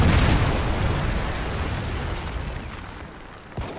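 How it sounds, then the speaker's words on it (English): A Predator missile strike in Call of Duty MW3 lands with a loud, broad explosion that rumbles and slowly decays over several seconds, ending with a small pop near the close. "Predator missile inbound."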